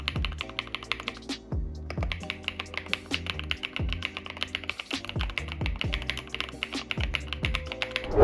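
Typing on an old full-size computer keyboard, rapid irregular key clacks up close with occasional heavier thuds, steady and alone without talk.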